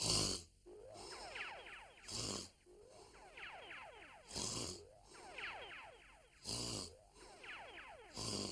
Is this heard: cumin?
no